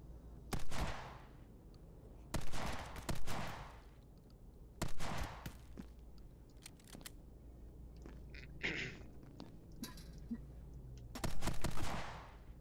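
Sniper rifle shots in the game My Friend Pedro, several sharp cracks fired singly and in quick pairs with quiet gaps between, plus a brief scraping mechanical sound midway, close and punchy without speech.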